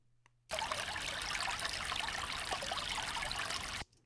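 A small stream trickles steadily up close, with a soft plop as it carries a rock partway through, then it stops abruptly.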